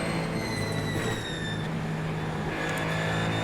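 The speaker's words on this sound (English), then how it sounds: "As we come into a fat pack of these GTPs coming around the hairpin and into no-name corner." GTP prototype race cars in iRacing, a pack running through a hairpin, making a steady loud engine drone with rising and shifting whines as they pass, with no voices.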